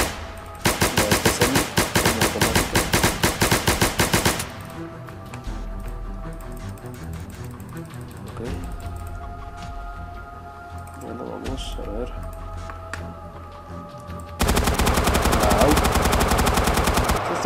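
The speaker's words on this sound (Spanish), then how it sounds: "Creo que esta arma es de ráfagas." A gun in a Minecraft weapons mod fires in long rapid bursts, loud and close, with one stretch of rattling fire, a quieter pause with low background tones, then another sustained volley.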